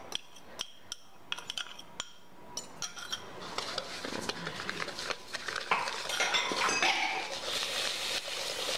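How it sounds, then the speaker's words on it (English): Egg yolks, sugar and cornstarch are whisked in a bowl: sparse metallic clinks at first, then a faster, continuous rattling scrape of whisk against the bowl, fairly close, with no speech. "we're gonna whisk this until it's, it resembles a, kind of like a yellow paste"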